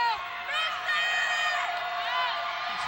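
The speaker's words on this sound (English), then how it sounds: "As the crowd picks up the noise" A crowd at a 1989 women's college basketball game between VSC and Jacksonville State cheers and shouts in a steady, loud roar that swells and holds, with a commentator talking over it.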